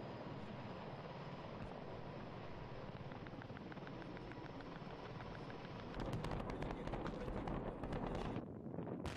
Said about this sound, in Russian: Военно-транспортные вертолеты МИ-1